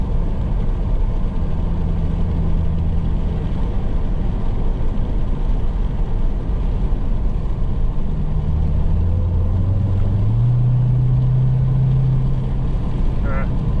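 A 2021 Dodge Charger SRT Hellcat Redeye Widebody heard from inside the cabin, its loud, heavy engine rumble droning steadily before the pitch climbs as it launches, with people talking over it.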